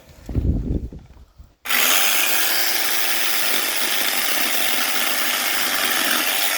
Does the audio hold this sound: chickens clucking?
no